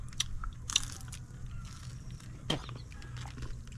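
Close, crisp bites and crunching of dried fish dipped in vinegar, a few sharp crunches over low background noise and faint murmur.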